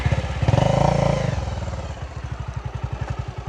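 Bajaj Avenger motorcycle engine revving up and then settling into a steady, loud thumping beat up close, the rapid pulses clearly audible on their own.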